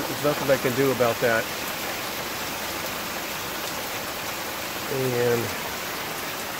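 Steady rain falls and patters onto a rainwater collection system in Texas, a constant wash of hiss heard throughout while someone speaks briefly at the start and again near the end.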